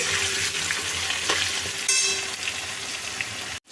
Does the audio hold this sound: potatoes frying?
yes